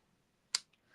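Scissors make a single sharp, close snip through paper while a stamped card is being made, then a faint tick follows in an otherwise quiet moment.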